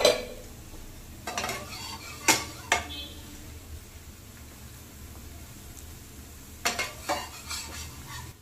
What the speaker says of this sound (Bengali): ভালো করে চেপে চেপে সেঁকে নিচ্ছি